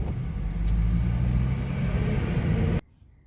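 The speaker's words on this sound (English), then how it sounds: "Falling in love with that dual exhaust right now. You can hear this thing." A Honda Civic with a D15B VTEC turbo engine and dual exhaust idles with a loud, steady low rumble for nearly three seconds before cutting off abruptly.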